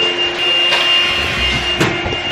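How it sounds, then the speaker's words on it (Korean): A household vacuum cleaner runs indoors at home, a loud, steady whirring drone with a faint high whine, close by and with no voices. "너 청소기 좀 돌릴게?"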